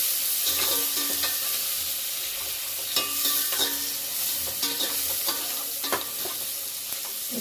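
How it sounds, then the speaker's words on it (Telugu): Chicken biryani with fresh coriander stirred in a hot pan: a constant loud sizzle with scraping spoon strokes repeating throughout, close up. "ఒకసారి కలిపేసుకుందాము."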